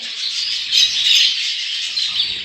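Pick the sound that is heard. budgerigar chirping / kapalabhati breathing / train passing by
budgerigar chirping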